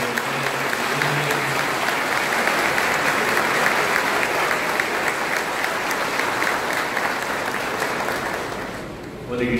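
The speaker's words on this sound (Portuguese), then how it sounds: "Uma salva de palmas então aos padres" Steady, sustained applause from a church congregation welcoming priests, clapping evenly throughout before fading slightly at the end.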